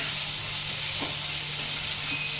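Tomato masala for a rohu fish curry with potatoes cooks in a pan, giving a steady, even sizzle and hiss at moderate volume with no pauses.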